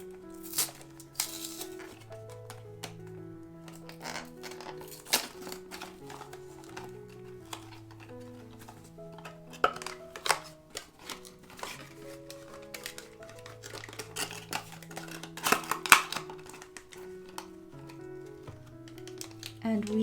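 Crinkling, tearing and rustling while working open an untaped anime mystery box, busy close handling noise with sharp snaps, while a sustained background melody plays throughout.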